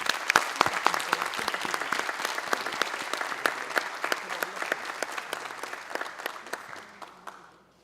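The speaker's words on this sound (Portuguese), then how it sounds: "Dr. Felipe Locke Cavalcante, a quem peço uma calorosa salva de palmas" An audience at a formal solemn session of the state legislature honoring the Public Prosecutor's Office claps for the arriving association president, with sharp individual claps that gradually thin out and fade toward the end.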